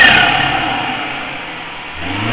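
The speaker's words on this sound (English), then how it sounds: "They really help emphasize the turbo noises in these turboed BMWs." A turbocharged BMW F30 fitted with an aftermarket air intake revs briefly, its engine note rising toward the end with a steady broadband rush and whoosh across the clip; no voices.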